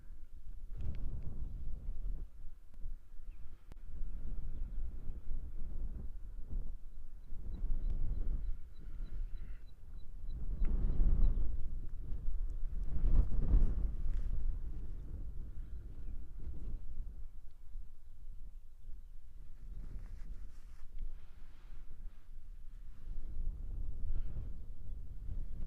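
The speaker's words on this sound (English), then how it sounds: "with the wind picking up like it is" Wind blowing outdoors across an open clearing, a steady low rumble with gusts that swell and fade over nearly half a minute, buffeting the microphone, with no voices.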